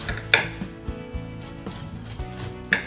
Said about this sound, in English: I need to chop up my pineapple so I can grill it